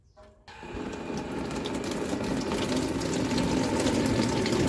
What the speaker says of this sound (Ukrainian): подаємо воду, підставляємо відерце і ловимо пластівці